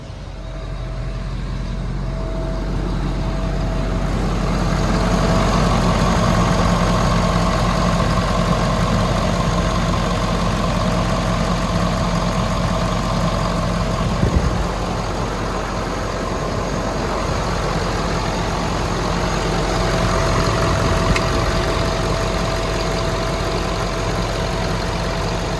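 A Ford 6.7 Powerstroke diesel truck engine with a newly installed DCR pump idles after startup, holding a loud, steady, even rumble throughout with no voices.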